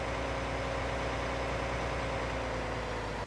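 Tractor engine in a farming video game, a steady loud droning rumble at constant pitch, continuous and unvarying throughout with no voices.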